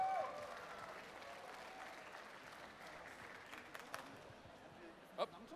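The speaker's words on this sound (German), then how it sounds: "Ein kleiner Applaus mal, Leute," Scattered clapping from an audience at a convention award ceremony, steady but subdued throughout, with a brief louder burst near the end.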